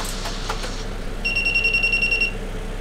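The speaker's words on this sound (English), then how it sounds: "the route processor, which flashes and then beeps as the points are selected" A model railway route processor gives a steady run of rapid electronic beeps lasting about a second as the points are selected, over a low background hum, after a few faint clicks.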